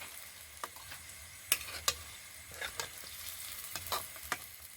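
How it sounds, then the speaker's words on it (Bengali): Food frying in oil, a soft steady sizzle with scattered crackles and pops close by, quiet and alone without talk. "এখানে সবগুলোই কিন্তু খুব সুন্দরভাবে ভাজা হয়ে গেছে, এবারে তুলে নিতে হবে।"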